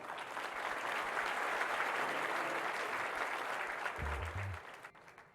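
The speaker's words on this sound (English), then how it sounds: "An applause." A short burst of steady applause from a crowd, evenly loud for about four seconds and then fading out, with a brief low tone near the end.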